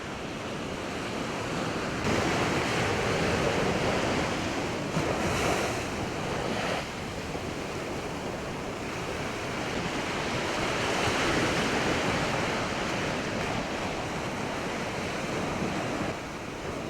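Continuous roar of ocean surf breaking and washing ashore as Hurricane Irene approaches, with gusty wind buffeting the microphone throughout.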